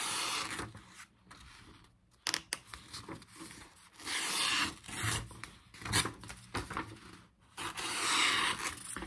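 A brand-new Spyderco Stretch 2 knife with K390 steel slices through paper in several rasping, scraping strokes, close and fairly quiet, separated by brief silent gaps, with no talking.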